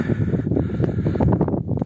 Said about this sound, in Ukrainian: Вітер дує, може шуміти.